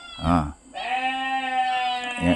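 A goat being let loose gives a long, wavering bleat at close range. Short bursts of nearby human voices come just before and just after it.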